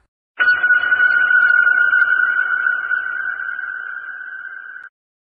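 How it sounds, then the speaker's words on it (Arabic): A submarine sound effect: a single sustained electronic sonar-like tone begins suddenly, holds steadily for about four seconds while slowly softening, then cuts off cleanly, with nothing else heard. "غواصة"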